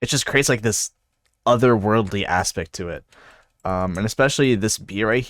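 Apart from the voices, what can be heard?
None of the usual background noises is heard.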